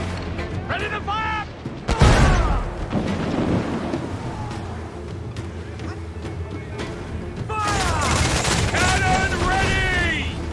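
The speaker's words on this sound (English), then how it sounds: "Ready to fire!" Cannon fire from a ship's broadside in Assassin's Creed IV: Black Flag, a sudden loud boom around two seconds in followed by rumbling gunfire and crashes, with shouted voices over the naval battle din.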